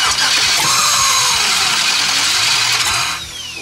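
An LS-swapped Ford Mustang engine cranks loudly and steadily for about three seconds, a continuous whirring starter drone that tapers off at the end without clearly catching.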